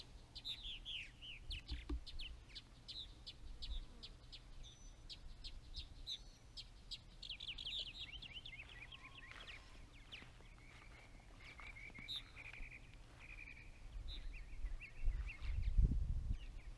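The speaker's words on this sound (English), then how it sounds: "but this is still a decent amount of birds" Purple martins call around martin houses mounted on winchable poles, a scattered run of chirps and warbling calls at moderate distance over a low background hum, thickening into a louder burst near the end.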